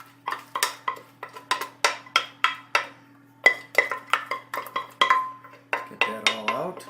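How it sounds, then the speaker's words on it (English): Honey-pecan topping spread over a baked base in a pan, heard as a steady run of short scraping and tapping strokes of a utensil against the pan, close and moderately loud, with no talk. "I'm going to spread the goop out on top."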